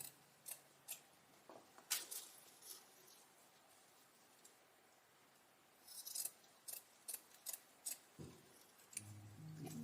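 Ribbon tails on a spring hanging basket with hydrangeas are cut at a diagonal by scissors in a series of crisp, close snips. A quiet pause falls between two bursts of rapid cutting, and a faint low hum comes at the end.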